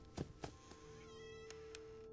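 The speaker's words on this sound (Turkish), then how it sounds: "Kedi sesi gibi bir şey geldi lan." A cat meows twice in quick succession in the video game Five Nights at Freddy's 4, then a fainter third meow, over a steady electronic hum and a brief high whine.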